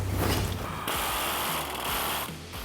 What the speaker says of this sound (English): We're going to start by taking out the track bar bolt.